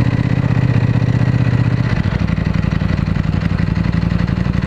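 A motorcycle engine idles close by, a steady low rumble with a faint clattering texture that shifts slightly in pitch partway through, with no talking over it.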